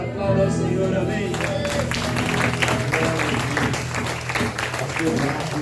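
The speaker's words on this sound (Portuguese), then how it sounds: "Aplauda ao Senhor, amém." A church congregation claps for the Lord during worship, a dense steady patter of hands over sustained music, with voices mixed in throughout.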